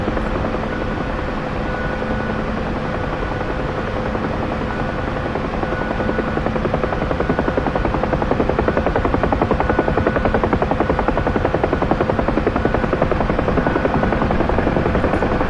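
Bell UH-1 Huey helicopter in the DCS World flight simulator, its rotor giving a steady, loud, thrumming drone with a rapid shaking pulse that grows slightly stronger toward the end, no talk.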